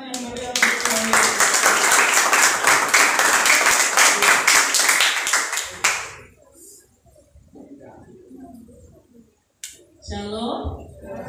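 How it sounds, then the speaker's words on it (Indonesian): Lively audience applause at a school committee event: dense, rhythmic clapping from a crowd for about six seconds, then it stops abruptly, leaving a quieter stretch with faint voices and a speaker talking near the end. "beri tepuk tangan yang meriah untuk kami"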